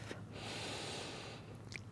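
A single deep, drawn-out breath taken while holding a high plank in a yin yoga session, a broad airy rush lasting about a second, close and fairly quiet, followed by a faint short sniff.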